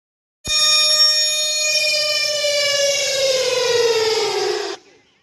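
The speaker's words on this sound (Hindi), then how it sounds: "सायरन बजे।" A loud, steady siren wails for about four seconds during a mock emergency drill at a government senior secondary school, its pitch sliding slowly downward before it cuts off abruptly.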